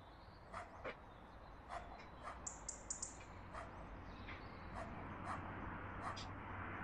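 A dog toy in a video game gives faint, scattered barks, yips and whimpers, spaced irregularly over a steady low background hum, with a few bright chirps in between.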